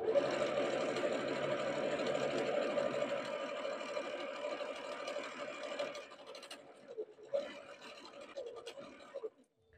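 A sewing machine stitches a quarter-inch seam on a Christmas stocking with fur trim, running steadily and close for about six seconds, then stopping and restarting in short bursts as the seam ends with a backstitch.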